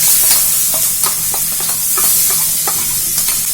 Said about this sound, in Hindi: अब मैं डाल दूंगी इसमें ये प्याज